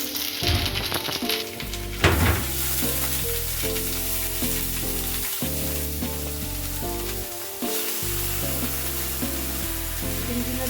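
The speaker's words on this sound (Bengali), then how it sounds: "গার্লিকগুলো দিয়ে দিতেছি, তারপরে প্রিপারেশনগুলো দিয়ে দিতেছি।" Garlic frying in butter and olive oil in a pan, a steady close sizzle running beneath louder background music, with a sharper burst of spitting near the start.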